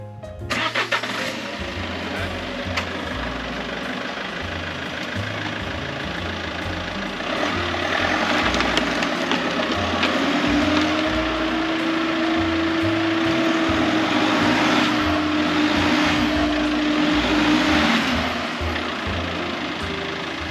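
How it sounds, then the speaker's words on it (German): A motorhome engine runs steadily at a campsite in Croatia as the vehicle creeps up onto levelling ramps, the low rumble swelling louder midway with a sustained whine before easing off, no voices over it. "also fahre ich jetzt auf die Rampen"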